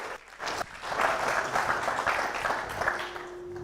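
Sustained audience applause at a pitch event as the CEO and founder of a medical tech company walks onto the stage, a dense steady wash of many hands clapping at moderate distance in a large room.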